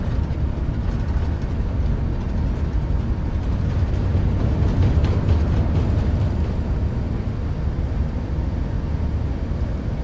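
An Airbus A380 in Microsoft Flight Simulator rolls for takeoff, its four engines giving a steady, heavy roar with a broad rumble that holds constant throughout, loud and alone.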